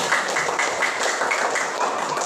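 Students in a classroom clapping together in a quick, even rhythm of repeated close claps, a light murmur of voices underneath.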